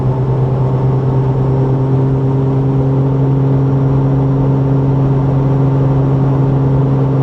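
Supercharged Toyota FJ Cruiser engine pulling steadily at highway speed around 75 mph, a loud continuous drone with strong steady harmonic tones throughout, heard from inside the cabin with no talking.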